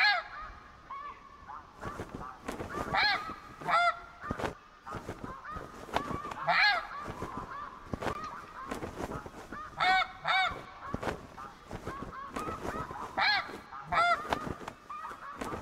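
Honking from a high flock of snow geese in TheHunter Classic hunting game, repeated overlapping calls in bursts across the whole stretch, fairly distant overhead, with no talk.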